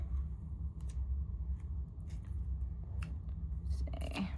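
Washi tape being cut for a Valentine's Day junk journal: a few quiet crisp snips and small rustles over a low continuous background hum, ending in a sharper cluster of clicks.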